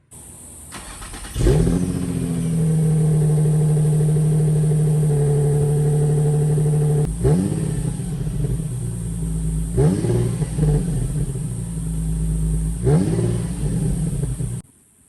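Stock exhaust on a Nissan 350Z fires up and revs, rising to a loud sustained blip, then settling and being blipped again in three more sharp throttle pulls close to the car.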